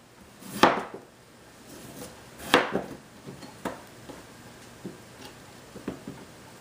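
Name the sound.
slicing potatoes with a knife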